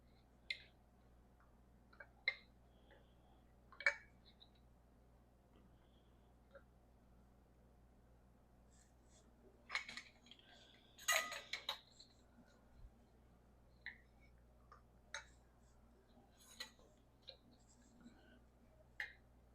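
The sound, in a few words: putting metal lids on canning jars of dilly beans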